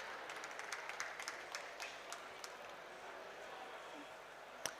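Sparse clapping from a small audience at a COP27 youth adaptation awards ceremony, scattered individual claps over a quiet room, fairly distant and soft, with one sharper clap near the end.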